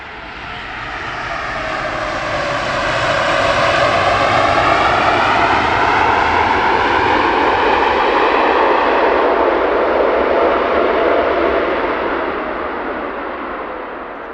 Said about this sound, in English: Awesome amount of noise, reversers deployed, beautiful, an absolute racket.